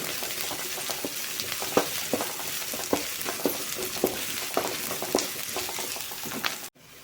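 Banana flower stir-fry (poriyal) sizzles steadily in a pan while a spatula scrapes and stirs at a regular rhythm, with sharp strokes every half second or so before the sound cuts off abruptly.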